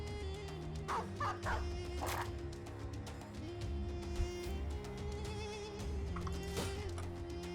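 Dogs barking in a Battle Brothers battle: a few sharp yips and barks rise over a dense, steady wash of game combat noise and music, with no one talking.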